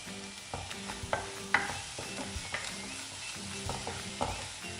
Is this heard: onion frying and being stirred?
yes